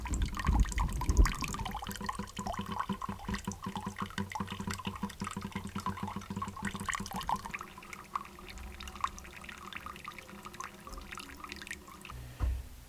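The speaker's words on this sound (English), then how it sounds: "And we have water coming through." Water trickles and drips steadily through a homemade sand filter in a continuous close-up stream, with a gurgling liquid texture that softens partway through.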